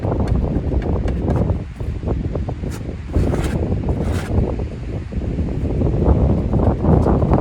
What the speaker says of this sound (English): that wind's going to pick up off and on through the day